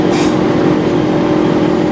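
Steady, loud rumble of a train running on the viaduct as it pulls into Burnley station, recorded from on board, with continuous wheel and track noise and no speech.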